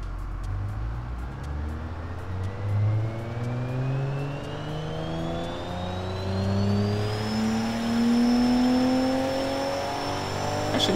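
A 2-liter inline-six engine in the game Automation revving, with turbo boost, its pitch climbing steadily through the gears with repeated rising sweeps, loud and close, with no voices over it.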